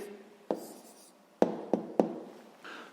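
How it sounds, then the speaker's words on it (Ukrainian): A pen writes an answer by hand on paper during a sixth-grade math exercise, giving faint scratching with a few sharp taps, quiet and close with no talk. "Записуємо відповідь."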